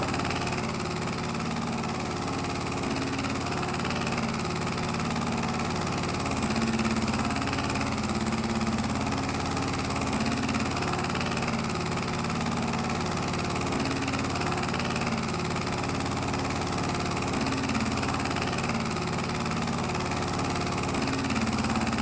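An old farm vehicle's engine idles steadily after being started on a farm, a continuous mid-low rumble with slight knocking vibration, close and alone with no talk throughout.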